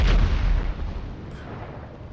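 Grenade explosions in GTA 5 Online, a heavy booming blast already underway at the start that rolls off into a fading low rumble and ambient hiss.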